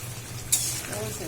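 Fish frying in a pan with chili and bitter gourd, a soft sizzle with a brief clink of a utensil stirring partway through, close and fairly quiet.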